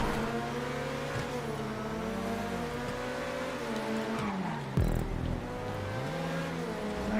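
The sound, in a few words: Coquette D10 car engine racing in video game GTA 5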